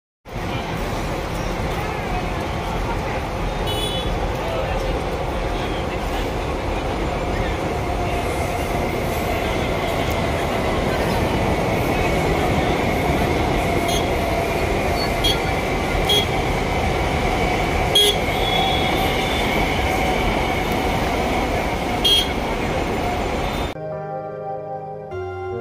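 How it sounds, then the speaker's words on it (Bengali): A train bound for South India thunders close past along the line with a steady roar, wheel rumble and occasional squeals, sustained at high level for around twenty seconds before cutting off. "যে ট্রেনগুলো যখন জোরে জোরে ছুটে তখন কিন্তু বেশ ভালো লাগে"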